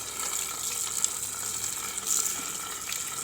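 Tap water runs steadily into a sink while two slaughtered ducks are washed under it, a close, continuous splashing rush with small spatters.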